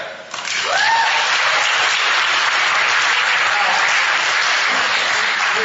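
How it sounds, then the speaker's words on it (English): Debate audience bursting into loud, sustained applause after a point on the existence of God, a thick steady roar of clapping following a brief voice at the start. "folks who just applauded that point"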